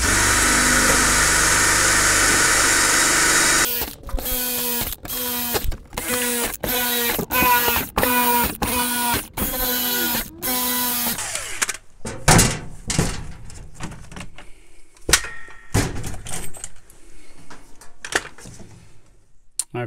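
Power drill with a step drill bit enlarging holes in workshop storage box racking so bolts will fit: loud repeated whining bursts of drilling in a steady rhythm, followed by scattered clunks and handling knocks, with no talking.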